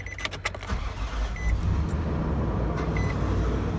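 A used car at a dealer auction, with a few clicks and key rattles first, then the engine rumbling low and steady as the gas is pressed, swelling slightly and holding loud and close.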